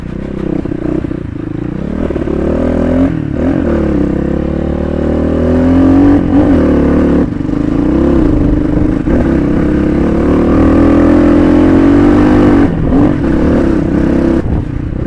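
Motorcycle engines rev and roar loudly up close during an off-road group ride near Baglung Bazaar, with sustained throttle and rising and falling pitch plus clattering and scraping, and no break in the noise.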